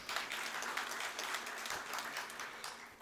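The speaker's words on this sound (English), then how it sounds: "I think that deserves a round of applause." An audience at an Indo-American business chamber roadshow event in Coimbatore applauds, dense continuous clapping throughout, moderately loud and filling the room.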